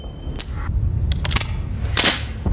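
A single pistol gunshot from an action film about a ballerina and a sect, a sharp crack standing out amid a few other short clicks and bursts over a rumbling film soundtrack.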